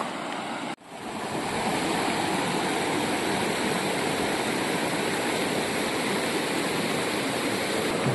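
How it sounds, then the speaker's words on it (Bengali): The Reli river flows below a wooden bridge in a loud, steady broadband rush of water that continues without break after a brief dip at the start. "আর নিচে হচ্ছে গিয়ে এই রেলি নদী"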